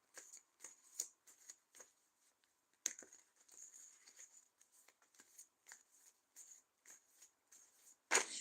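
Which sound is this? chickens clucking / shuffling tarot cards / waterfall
shuffling tarot cards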